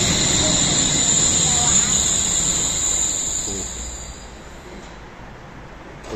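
A Wuppertal suspension railway train pulls in overhead, its broad, loud rumble gradually easing and fading as it slows, with voices talking over it.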